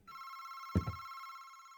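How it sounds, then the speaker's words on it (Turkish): An old telephone rings at four in the morning in a dark house during a night-time exploration. It gives a steady, sustained electric bell tone throughout, with a couple of brief thumps partway through. "Telefon. Telefon. Telefon."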